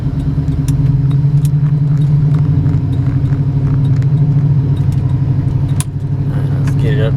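A 1996 Roadmaster wagon with an LT1 engine accelerates from a green light, a loud, steady low engine drone with a slight pitch shift as it gathers speed, heard from inside the car with a voice talking briefly.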